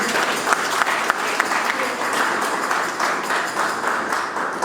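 A church congregation at Sunday Mass claps together in continuous, lively applause, dense and even, filling the room with no talking over it.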